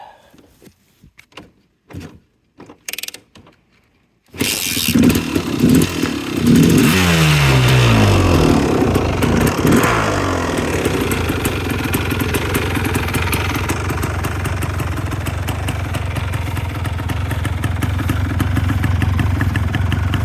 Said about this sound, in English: Love the way the factory exhaust sounds.